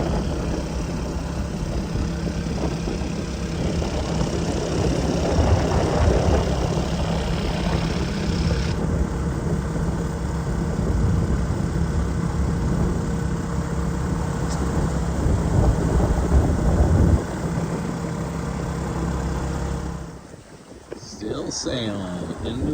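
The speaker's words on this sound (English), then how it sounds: "Generator's going, just charging up the batteries from the night" A generator hums steadily aboard a small Nor'Sea 27 sailboat under sail offshore, charging the batteries while wind buffets the microphone, with a few faint voices and a brief drop in the noise near the end.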